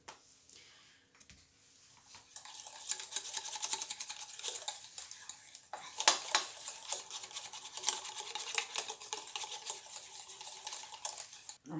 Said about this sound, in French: j'aime bien essuyer entièrement la casserole et remélanger un coup